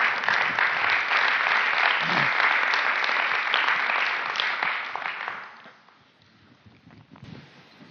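An audience at a conference lecture gives sustained applause for a simultaneous interpreter, a dense steady clatter of clapping that fades out near the end, leaving quiet room noise.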